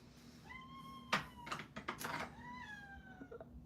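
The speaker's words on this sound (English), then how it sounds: "Does anybody hear Crash meowing?" A cat meows indoors, a few moderately loud drawn-out cries with rising and falling pitch, interrupted by brief clattering knocks in the middle.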